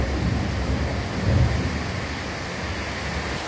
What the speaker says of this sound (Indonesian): Ada petir ya.